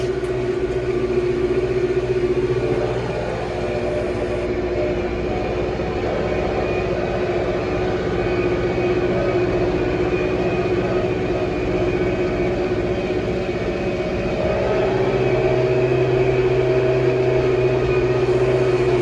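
Tümosan 8195 tractor pulling a harrow while preparing a lentil field, its engine droning steadily and loud with a sustained tonal hum and transmission whine, shifting pitch slightly near the end.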